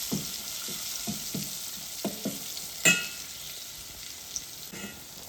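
Garlic fries in oil with turmeric as a tempering until it turns crispy for a pomfret curry, a soft steady sizzle under repeated light scrapes and taps of a spoon stirring in the pan, one sharper clink partway through.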